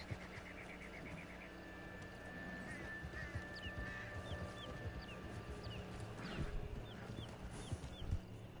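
Horses in Red Dead Redemption 2 move along with soft, rhythmic hoofbeats and faint snorts, set against an outdoor ambience of chirping birds, quiet and somewhat distant throughout.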